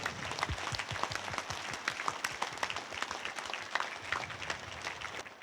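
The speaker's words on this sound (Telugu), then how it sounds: "ధ్యానానికి చప్పట్లు." A large audience applauds at a meditation gathering, steady dense clapping filling the space for several seconds at even loudness, with no voices over it.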